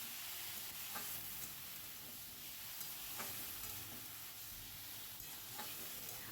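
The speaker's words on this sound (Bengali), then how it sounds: "আর লঙ্কা গুঁড়োটা যেহেতু আমি মেখে নিইনি, সেই জন্য ভালো করে খুন্তি দিয়ে দেখো নেড়ে দিচ্ছি" Kachki fish with chili powder being stirred in hot oil with a spatula, a faint continuous sizzle and hiss with light periodic scrapes, close and quiet with no voices.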